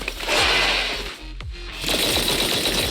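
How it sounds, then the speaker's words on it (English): A mech in Zenless Zone Zero lets loose a hail of bullets, a loud rapid rattling burst that briefly dips in the middle before resuming, with no one speaking. "A fierce hail of bullets hits the helpless enemies who fail to find cover, and with an almighty cracking sound suppresses and drives away all ethereals present"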